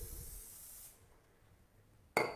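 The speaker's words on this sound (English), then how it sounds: "I'm going to put some cooking spray in." A short hiss of cooking spray is released into a pan, a brief loud burst following a quieter stretch of background noise.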